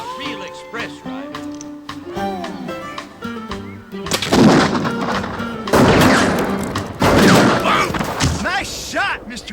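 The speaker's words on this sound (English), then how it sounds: "Nice shot, Mr. Quimby." Gunfire from a Western-era express rider setting: a few loud, sharp shots at about 4, 6 and 7 seconds burst through music and talk, each with a broad rumbling tail.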